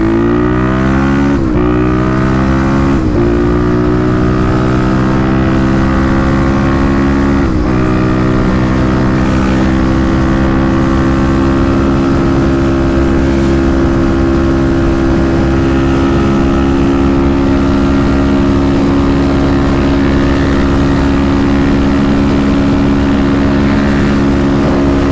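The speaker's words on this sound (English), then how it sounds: "This Barker exhaust is pretty loud on the highway." A Kawasaki KLX351 with a loud aftermarket Barker exhaust roars continuously at highway cruising speed, with a few shifts in engine pitch early on before holding a steady drone.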